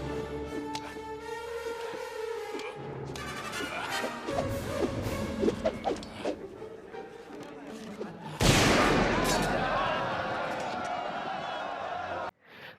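Rapid blaster shots ring out in a Star Wars video game, sharp bursts mixed with in-game effects over a steady background, ending in a loud sustained blast before a sudden cut.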